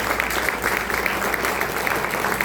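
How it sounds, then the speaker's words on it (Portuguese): Steady congregation applause during a church anniversary festival service, dense and even clapping from a crowd sustained throughout without a break. "Você pode aplaudir o nome do Senhor Jesus?"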